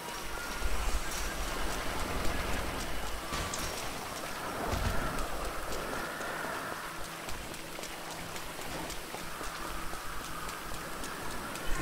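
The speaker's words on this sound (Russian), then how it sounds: "Дождь пошел весь мокрый" Steady patter of rain in Grand Theft Auto V Online falling on surfaces, a constant wet hiss with scattered droplet taps, moderately loud and uninterrupted.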